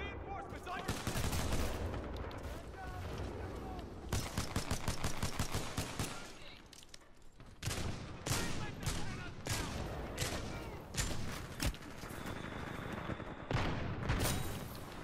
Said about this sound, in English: So hard to spam shooting with my trigger.